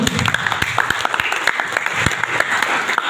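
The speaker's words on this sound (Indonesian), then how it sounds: "Tepuk tangan untuk Ustadz Wahyu." Audience applause at a mosque youth training event honoring a speaker, a dense wash of many hands clapping, fairly loud and steady throughout, with a few sharper individual claps standing out.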